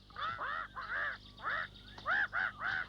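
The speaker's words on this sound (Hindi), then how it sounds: "क्यों चिल्ला रही हो मैना?" A myna bird in a jungle cartoon squawks in a rapid series of harsh, nasal screeches, close and fairly clear, with brief pauses between calls.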